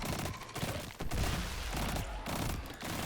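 Rapid bursts of gunfire in Destiny 2, fired at approaching enemies during an Ascendant Challenge in the Agonarch Abyss, crackling densely and loudly with brief gaps.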